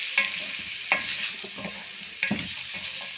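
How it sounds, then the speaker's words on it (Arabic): Green fava beans fried with oil, garlic and green chili are stirred in a pan. Several distinct scraping strokes ride over a loud, constant sizzle, close up and with no talk. "نقلب كده في الفول اهو"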